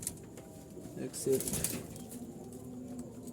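Jalali pigeons in a loft full of eggs and chicks coo softly and low in short bursts, mostly buried under someone talking close by.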